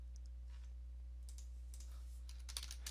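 Soft keystrokes tap on a computer keyboard, scattered at first and then a quicker cluster of clicks near the end, faint against a steady low hum.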